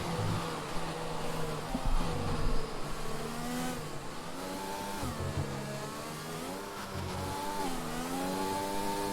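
In a racing video game, race car engines scream down the long straight at Autódromo Hermanos Rodríguez in Mexico. Their pitch climbs through the gears in repeated rising sweeps, loud and sustained, with several cars overlapping.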